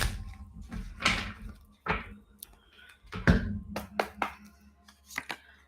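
Tarot cards being shuffled by hand, a series of close, irregular riffling and slapping bursts with short pauses between them.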